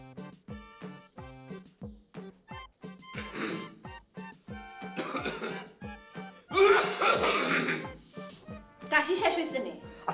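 A person coughs and clears their throat over and over, close and loud, in a domestic scene from a drama serial. Bursts of harsh hacking come between quieter throat sounds.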